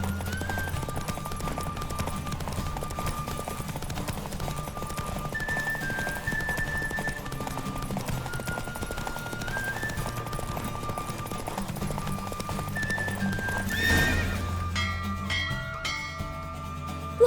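A horse gallops in a race in the video game The Witcher 3, rapid rhythmic hoofbeats running under a melodic music score, with a brief louder swell near the end.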